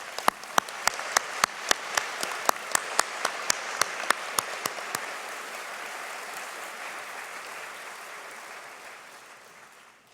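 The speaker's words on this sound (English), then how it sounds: "Let's give them all a big round of applause." Applause from the audience at a dental school white coat ceremony, a few sharp individual claps at the start swelling into sustained, dense clapping that slowly fades.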